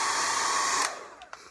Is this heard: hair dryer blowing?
yes